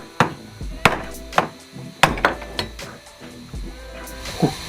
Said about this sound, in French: A l'aide d'un extracteur et d'un bon coup de marteau, on retire la douille restée sur la rotule de direction.